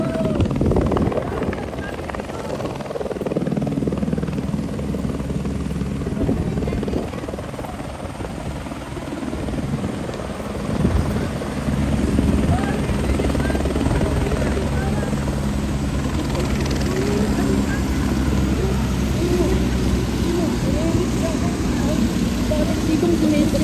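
A helicopter lands at an outdoor political event, its steady loud rotor roar sustained throughout beneath a crowd of excited voices.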